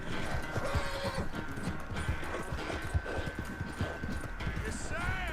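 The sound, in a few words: horse galloping in Red Dead Redemption 2 video game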